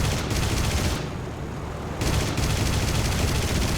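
Aircraft gunfire in the WWII flight combat game War Thunder: sustained rapid automatic fire, loud and continuous, with a brief dip in intensity midway before the firing resumes.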